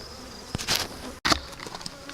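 Honeybees buzzing around an open hive during an inspection, a steady close hum with individual bees swelling loud as they fly past.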